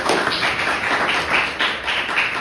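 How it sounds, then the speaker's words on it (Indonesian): Audience in a high school setting clapping hands, a dense, close run of claps that swells in slight waves and continues steadily throughout. "Tepuk tangan dong."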